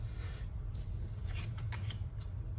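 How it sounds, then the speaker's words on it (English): Tarot deck being shuffled by hand, a soft steady riffle of cards close up over a low background hum. "I'm just going to continue shuffling until I pull"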